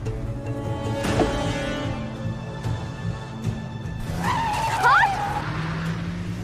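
A car driven recklessly fast, a steady engine drone under the scene with a sharp tire squeal and skid rising near the end, voices talking over it.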